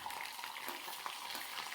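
Ginger frying in hot sesame oil, a soft continuous sizzle with light stirring scrapes, faint and close.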